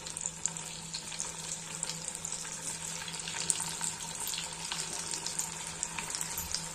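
Kothimbir vadi, coriander fritters, frying in hot oil, a steady close crackling sizzle with scattered sharp pops and a faint low hum underneath.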